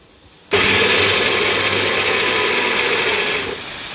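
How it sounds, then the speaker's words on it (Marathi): A sudden loud, steady hiss bursts out after a brief quiet start and holds strongly for several seconds, a pressure cooker whistle releasing steam. "कुकरच्या शिट्ट्या चालू आहेत"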